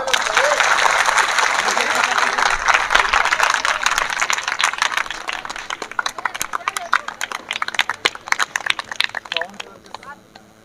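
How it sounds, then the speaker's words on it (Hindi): Loud applause from a crowd at a girls' high school farewell and honour ceremony, steady at first, then thinning into scattered, uneven claps toward the end. "जोरदार तालियां।"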